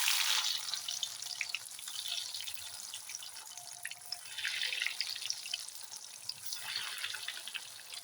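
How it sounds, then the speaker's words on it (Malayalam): Sweet potato cutlets fry in hot oil with a steady crackling sizzle. Bursts of bubbling swell and fade across the clip, fairly close and quiet, with no voices over it. "ഓക്കെ, നമുക്കിനി പൊരിച്ചെടുക്കാം. എണ്ണയൊക്കെ തിളച്ചെടുപ്പുണ്ട്,"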